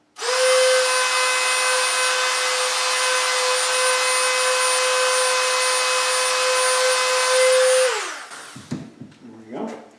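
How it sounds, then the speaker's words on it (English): A power tool sands down a plastic edge on a Black Widow costume gauntlet, a loud, steady high-pitched whine running for about eight seconds before winding down into quieter scraping. "I'm just going to sand it down just a little bit in order to get a wider, flatter surface"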